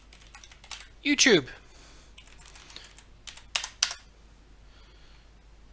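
Short bursts of typing on a computer keyboard, a few quick clustered key clicks close by, separated by pauses, with a voice speaking over parts of it.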